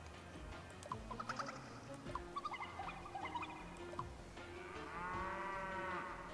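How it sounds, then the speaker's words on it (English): Assorted farm-animal calls, clucks and squeaks, from the Miitopia video game chatter at a low level, then a long cow moo rises near the end, clear and unaccompanied by talk. "Is that a cow?"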